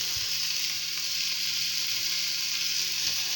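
Green peas and green beans fry in a pan with a steady, close, hissing sizzle, broken by a couple of soft knocks and no voices.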